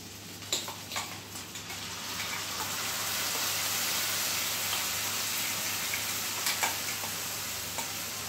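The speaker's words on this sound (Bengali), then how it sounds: "এবার আমি কড়াইতে দিয়ে দিচ্ছি মিক্সিতে বেটে রাখা মশলাটা" Steady sizzling of ground spice paste frying in a hot wok, with occasional stirring scrapes and pops, continuous and fairly close throughout.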